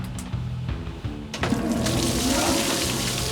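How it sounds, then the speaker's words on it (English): Water running from a shower aboard a moving train, a steady rushing spray that starts softly and swells after a brief pause, close and continuous with faint rumble beneath. "I'm gonna grab a shower"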